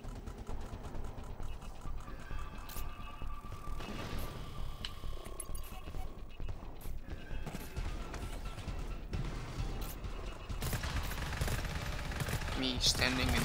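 A machine pistol fires in GTFO in rapid bursts of gunshots over a steady game soundscape, with crackling shots scattered throughout and a louder flurry near the end.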